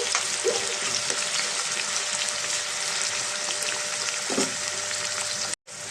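Onions and green chillies fry in a pan with a continuous, close hiss of sizzling oil and a few faint stirring scrapes, ending in a brief cut.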